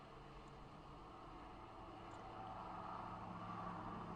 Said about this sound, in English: You'll hear the traffic.